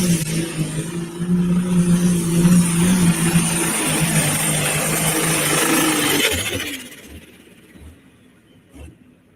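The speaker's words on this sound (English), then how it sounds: "Something was definitely off in that tractor. You heard it coming down the track. Almost had a knock in it." Kyle Karsten's Lotta Green pulling tractor from Parker, Kansas roars loudly down the track with a strained engine that seems off, almost knocking, then drops away after about six seconds to quieter knocks and thumps.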